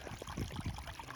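Water running down a hiking path in the Mourne mountains, a steady close wash of trickling, burbling stream-like flow filling the short moment without talk.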